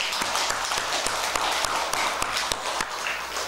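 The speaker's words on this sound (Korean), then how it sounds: "다 같이 박수 한번 쳐보세요" A Buddhist congregation at a Sunday family dharma service in a Jeonbuk Buddhist hall claps together, a dense wash of applause with sharper individual claps standing out, fairly close and steady for a few seconds.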